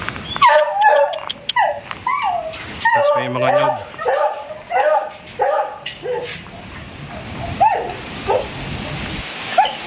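Several dogs bark and yip repeatedly from a dog kennel on a property in Indang, Cavite, in irregular bursts, some barks high and whining, while a person talks over them.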